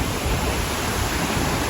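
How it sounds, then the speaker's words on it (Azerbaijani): Iguazu Falls on the Argentine side, where the river begins to plunge, gives a loud, steady roar of rushing water, a dense, continuous wash with no voices. "Bu da şəlalənin ən başlanğıcı, axan hissəsi."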